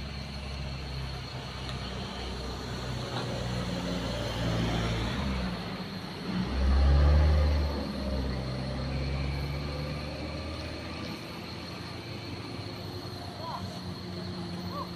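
White truck on a road in Aceh pulling away, its low engine rumble swelling briefly mid-clip before settling into a steady drone, moderately distant, with faint voices nearby.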